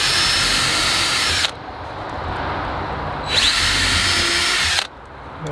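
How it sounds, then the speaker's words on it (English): A power drill pre-drilling holes in wood: two loud, close high-pitched whining bursts, separated by a quieter stretch of the motor spinning down, with no talk. "so I'm gonna pre-drill some holes in this first."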